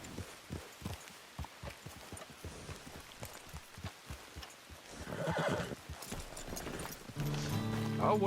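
A horse walks in the Red Dead Online video game, its hooves clip-clopping in a steady, even rhythm that gets busier and louder toward the end, with faint background ambience.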